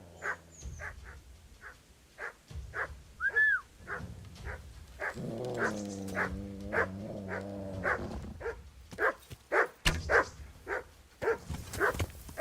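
A dog in the medieval game Kingdom Come: Deliverance gives a rhythmic series of short yips and barks with a brief whining whimper between them, fairly close and clear, with no one talking.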